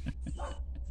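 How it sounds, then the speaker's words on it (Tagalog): An agitated dog barks up close, firing off four or five short, sharp barks and yips in quick succession with brief gaps between them. "Nagalit tuloy yung aso."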